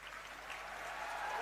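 Applause from an audience at a formal G20 presidency event welcoming a guest speaker, a steady broadband patter that swells slightly over a brief stretch, fairly faint and distant.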